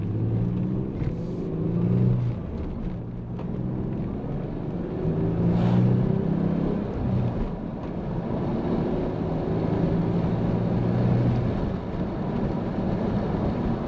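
Nissan 300ZX accelerating and cruising on the road, a steady engine drone with rising and falling revs between gear changes, heard from inside the car with continuous road and wind noise and no talking.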